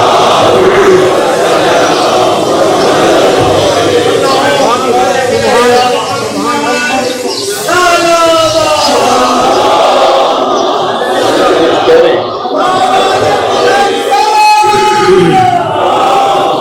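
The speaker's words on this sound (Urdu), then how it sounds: "ایک صلوات پڑھ لیں محمد و آل محمد" A large crowd at an Eid-e-Mubahila religious gathering loudly recites salawat on Muhammad and his family in unison, a dense, sustained wash of many voices chanting together.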